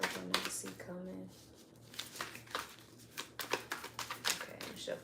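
A new, oversized deck of tarot cards is shuffled by hand in quick riffling bursts, close up, with a person speaking over parts of it.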